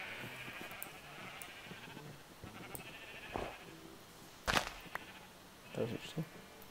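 Sheep in a video game bleat several times, with short, moderately loud calls rising above a low, busy background hum and faint buzzing.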